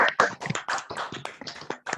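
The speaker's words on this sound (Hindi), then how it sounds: "किशोर जी के लिए जोरदार ताली बजा सकते हैं हम लोग" A few people on a Zoom call clap for Kishor, a close, quick run of uneven claps and taps over about two seconds.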